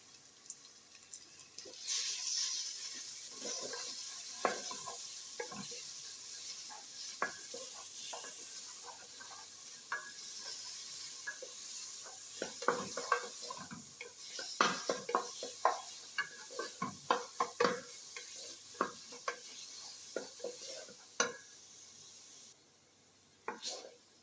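Meat sautés in a pot as the base for a corn soup, giving a steady sizzle with scattered scraping stir clicks and clatter, close up and fairly quiet, with no talking.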